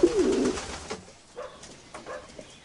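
Racing pigeons cooing close by in a loft, one loud, throaty coo at the start followed by several softer, scattered coos over faint background hum.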